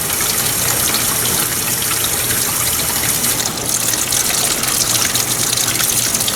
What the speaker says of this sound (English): Let's put the pump on it just to see what happens.